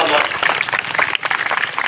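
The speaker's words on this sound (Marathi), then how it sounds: "आपण जोरदारपणे टाळ्या वाजवून स्वागत करूया" An audience claps at a felicitation event for students who qualified for medical studies. The clapping is dense and continuous and lasts only a couple of seconds, with voices mixed in.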